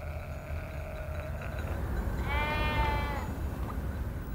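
A sheep in a resting flock lets out a single clear bleat midway through, against a steady low rumble of background noise on pasture at midday.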